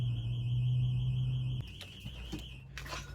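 An alarm sounds inside an abandoned house, a loud steady tone that cuts off after a second and a half, leaving faint shuffling and a brief rustle.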